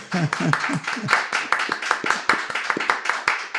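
Steady applause fills a podcast studio, many hands clapping in a dense, continuous patter with voices mixed faintly underneath.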